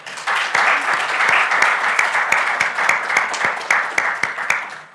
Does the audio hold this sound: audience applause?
yes